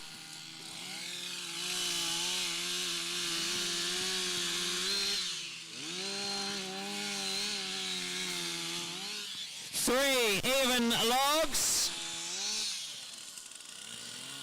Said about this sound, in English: 3 even rings they need to cut with those chainsaws.